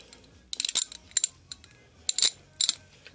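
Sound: ratchet wrench from a steel tool set clicking

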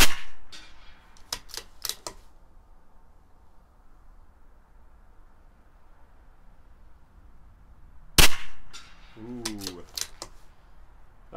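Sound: CZ 457 rimfire rifle shots with CCI Pistol Match

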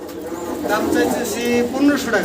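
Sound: pigeons cooing at a farm

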